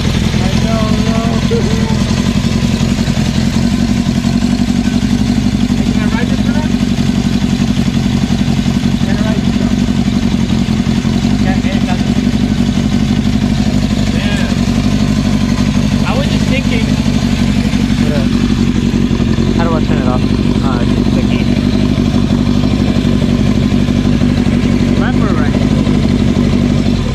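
A 1972 Honda CB750 survivor motorcycle idles steadily with a low, even rumble and light mechanical clatter, while people talk nearby over it.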